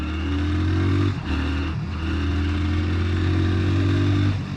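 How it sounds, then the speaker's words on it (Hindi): A 27-year-old Hero Honda Splendor Plus motorcycle idles and runs in second gear, a steady droning single-cylinder engine hum with two brief dips as the throttle eases, loud and close. "अब देखो मैं दूसरा गियर डालता हूँ, आवाज़ चेक करो आप"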